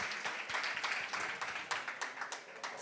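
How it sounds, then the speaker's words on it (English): Fairly quiet applause from an audience at a music festival launch event, individual claps distinctly audible in an uneven, moderately sparse patter. "Yes, round of applause."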